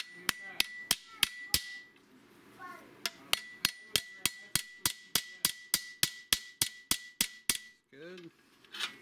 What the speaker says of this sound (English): Ball peen hammer. Ball peen.